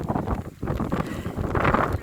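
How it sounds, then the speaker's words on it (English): Wind gusts buffet the microphone on a hilltop at Gun Hill near Rushton during a rainy cycling ride, a loud, close, uneven rumbling roar that surges and dips in irregular bursts. "Pretty windy up here."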